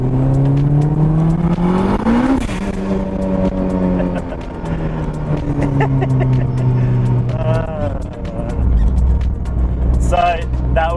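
A 500hp Mugen 1989 Honda CRX revs hard in third gear, its engine note climbing, dropping at a shift and rising again over about eleven seconds, with someone talking over it.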